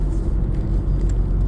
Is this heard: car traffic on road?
yes